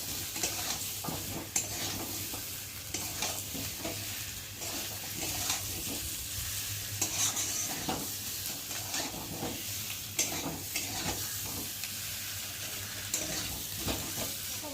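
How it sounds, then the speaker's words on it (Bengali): Fried potatoes and spice paste being stir-fried in a pan for an egg curry, with a steady sizzle under irregular scraping strokes and occasional light clinks of a utensil, close and continuous. "ভেজে রাখা আলুগুলো দিয়ে দিলাম দিয়ে আলুগুলোর সাথে মশলাটা ভালো করে কষিয়ে নেবো"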